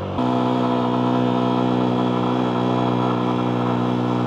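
Motorcycle engine straining uphill on a ride toward Sajek Valley, a loud, steady, labouring drone heard close up throughout, with no talk.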